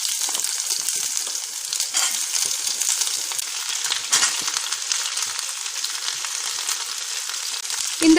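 Sliced onions and garlic sizzle steadily in hot oil while periya vengaya chutney is being cooked, a continuous close frying hiss with no voices.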